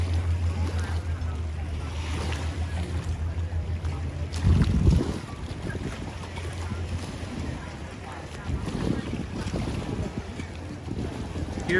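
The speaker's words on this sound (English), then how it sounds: "Here is breezy and cool." Steady breeze at Lake Como in Italy, a continuous low rumbling wind buffeting the microphone with a stronger gust midway, mixed with faint outdoor lakeside ambience.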